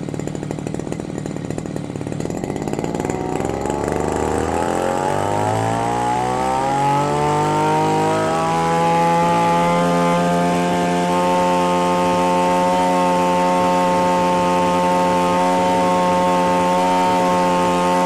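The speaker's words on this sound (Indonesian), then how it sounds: "Berapa RPM yang bisa dicapai oleh mesin rumput Saichi ini" A Saichi SC 338 two-stroke brush cutter engine revs up steadily from idle to a high, sustained whine around 8000 RPM and holds there loudly without pause.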